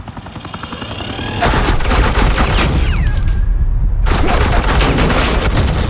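Suppressing gunfire in a Batman game, a dense burst of rapid automatic shots that cuts out briefly and then resumes, loud and close.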